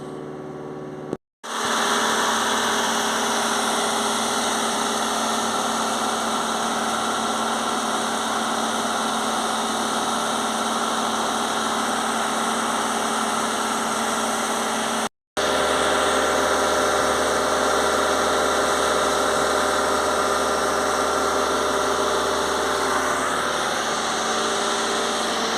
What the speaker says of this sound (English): the engine has been idling for 60 seconds